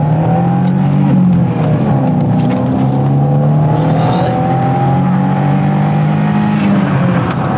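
A car engine roars steadily and loudly throughout as the car flees a police pursuit, holding a high strained pitch with slight rises as it speeds along.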